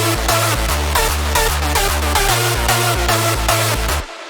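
A hardstyle music edit punches out in a driving loop, with a heavy pulsing bass kick, bright lead and chords, and sharp claps on the beat, loud and continuous before cutting off abruptly near the end.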